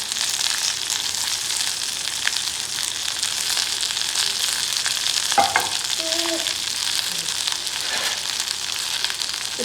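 Chopped ivy gourd and four garlic cloves sautéing in a pan, with a steady, close sizzle throughout and a few brief utensil clinks near the middle, no talking.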